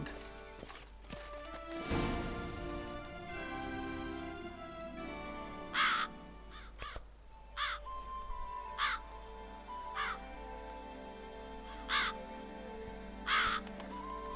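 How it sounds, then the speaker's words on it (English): Crows caw repeatedly in The Witcher 3, with sharp calls spaced every second or two over a steady game ambience. One louder crash-like burst comes near the start. "He likes his crows, doesn't he?"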